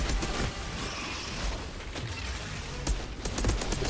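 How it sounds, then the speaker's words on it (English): An LFG heavy gun hip-fired in the video game Outriders: sharp, rapid repeated shots over a steady rumbling backdrop, loud and close. "He's so big I can hip fire with an LFG."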